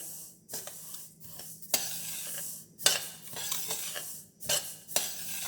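Black sesame seeds being dry-roasted in a pan for til laddu, with repeated rhythmic scraping strokes of a spoon against the metal and a faint crackle between strokes, close up and without voices.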